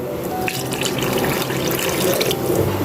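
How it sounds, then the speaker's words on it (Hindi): Water from a glass poured over raw mutton in a cooking pot, a steady splashing, trickling wash that stays fairly loud and continuous for a few seconds. "गोश्त बॉयल होगा तो 1 गिलास पानी इस पे हम डालेंगे।"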